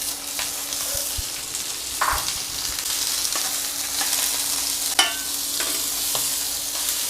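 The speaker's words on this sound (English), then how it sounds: "Meanwhile, I can add the beans and fry them together" Green beans fry alongside a steak in a hot pan, giving a steady, close sizzle with a few sharp spatters and light stirring clatters.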